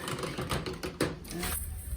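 A fork stirs cornmeal porridge for creamy Jamaican cornmeal porridge, a steady run of quick, close scraping and tapping strokes, moderately loud with no talking.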